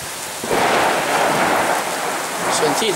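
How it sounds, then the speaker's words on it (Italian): Heavy rain pours steadily on a cold summer morning in Vazzano, Italy, on 24 June 2016, with a dense continuous hiss and a low rumble of thunder, loud and close throughout. "ci si alza con questa bella pioggia"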